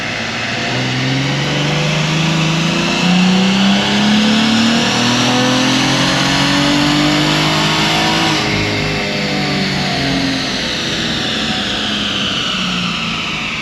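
An LS7 V8 in a Z28 Camaro climbs through a wide-open-throttle dyno pull, its loud engine note rising steadily in pitch for about eight seconds before a sharp shift, then continuing to rev.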